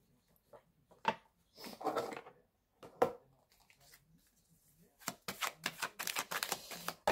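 A deck of oracle cards being cut and shuffled: a series of quick papery riffles and slaps in bursts, close and fairly quiet, with brief pauses between them.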